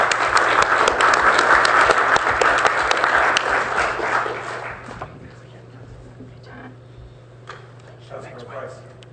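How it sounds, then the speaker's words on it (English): Audience applause at a city council meeting, loud and steady for about four seconds before fading to scattered claps, with talk heard beneath and after the clapping. "Maybe we could applaud them again while the mayor's down there."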